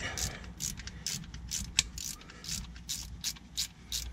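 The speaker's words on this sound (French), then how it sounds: "l'idéal c'est la clé à cliquer" A ratchet wrench clicks in quick repeated bursts while removing nuts during removal of a 2.2 HDI engine, close and fairly loud, with a sharp metallic knock partway through.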